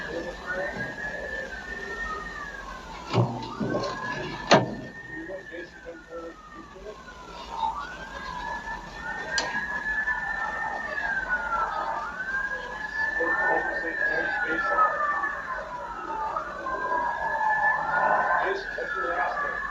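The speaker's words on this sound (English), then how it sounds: "I'm hearing sirens" Near a historic 1879 jailhouse in Galien, Michigan, a siren wails in repeated rising and falling cycles from a moderate distance, with a couple of sharp knocks early on and voices talking quietly underneath.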